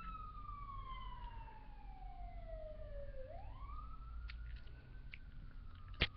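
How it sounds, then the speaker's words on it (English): An emergency vehicle siren passes outside, a single long falling wail that swoops back up and holds, faint and distant, with a few small clicks near the end. "there's a freaking siren everywhere."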